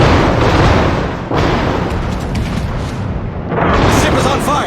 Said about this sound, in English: just the number of shots that get out of these German battleships is amazing